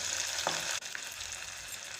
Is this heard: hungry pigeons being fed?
no